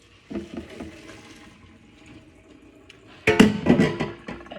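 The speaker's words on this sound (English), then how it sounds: "you take the noodles, and you pour them into a strainer" Cooked pasta noodles and water are poured into a strainer in a kitchen sink, making a sudden loud splashing gush after a quieter stretch of running water and clatter.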